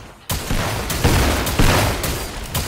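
Ghost pistol fire in Fortnite: a loud, dense, continuous rattle of rapid shots with a few stronger bursts, close and steady throughout.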